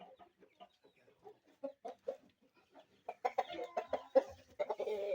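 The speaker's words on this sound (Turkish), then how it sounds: "Burada yine bir Brezilya horozumuz var." A Brazilian rooster makes a run of short, spaced clucks that grow louder and busier toward the end, close by with no talking.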